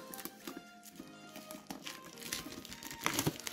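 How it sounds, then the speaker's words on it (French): Crinkling and tearing of packaging while a Yu-Gi-Oh Mega-Tin box from 2019 is opened, with soft, close rustles and a louder burst of crackling near the end. "On va commencer avec une première boîte, si on arrive à ouvrir."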